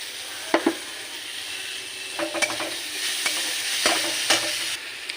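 Onions with salt, ground garlic and chopped tomato frying in a pan, heard as a close, steady sizzle punctuated by several sharp scraping clinks of a spatula stirring.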